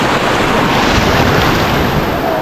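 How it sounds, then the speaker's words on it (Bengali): Sea waves breaking on Kuakata beach, a loud continuous rushing surf roar close by with wind buffeting the microphone. "ঢেউটা আসে তখন এর সাউন্ডটা শুনে অনেক ভালো লাগে"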